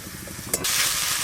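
Onion, ginger and garlic sizzle and fry in a hot pan on a clay stove, with a brief stirring scrape, steady and close.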